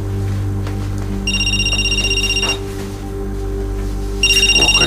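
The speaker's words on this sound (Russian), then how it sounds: "О, Катя звонит." Mobile phone ringing with an incoming call, playing a bright electronic ringtone in two bursts separated by a short pause, loud and close over a quiet room with no talk.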